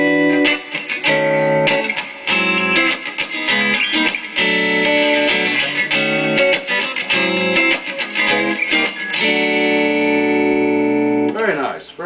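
Electric guitar chords and single notes drenched in reverb from an AboveGroundFX Venue reverb pedal, each strum ringing out and washing into the next, played steadily and fairly loud.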